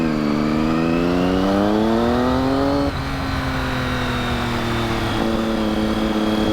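Triumph Daytona 675 motorcycle engine running steadily at a low idle after a valve job, a loud close engine tone with strong harmonics that dips slightly in pitch partway through, heard alone without talk.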